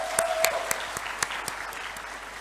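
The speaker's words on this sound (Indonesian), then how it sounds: "tepuk tangan semua" Sparse, scattered handclaps from an audience at a university capping day ceremony, with individual claps standing out over a light patter, moderately loud and fairly close, with no talk over them.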